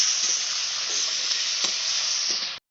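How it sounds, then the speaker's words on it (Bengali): Tomato frying lightly in hot oil in a village kitchen, a steady loud sizzle with faint crackles that cuts off abruptly near the end. "ওই তেলের উপরে দিয়ে দিলাম টমাটো হালকাভাবে ভেজে দেবো টমাটোটা"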